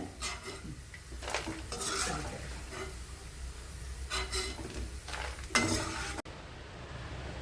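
Hot oil sizzles up close while frying ginger, a utensil scraping and stirring in repeated bursts, and the sound cuts off abruptly near the end.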